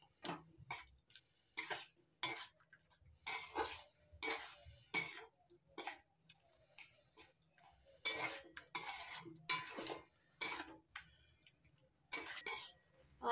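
Ghee being stirred into a sweet mixture in a pan for Janai manohara, a spoon scraping and clinking against the pan in short bursts separated by brief pauses; quiet and close, without talk.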